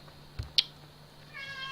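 A cat gives a short, faint meow at the end, preceded by a couple of small knocks in a quiet room.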